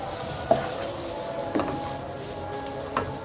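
Vegetables and green onion stirring and sizzling in a pan while cooking chicken macaroni, with a steady frying hiss and a few sharp scrapes of a spoon against the pan at roughly one-second intervals, close and moderately loud.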